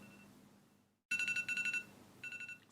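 A quiet hum cuts out, then an alarm clock beeps in rapid pulsing bursts, repeating in groups, close and fairly loud with no talking.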